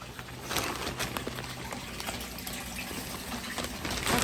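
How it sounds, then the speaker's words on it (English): Water pumped up from a fish tank holding small bluegills into an aquaponic grow bed pours and trickles without a break. It is faint and close, with small splashes rising over the flow and no voices. "the water gets pumped up from the tank underneath"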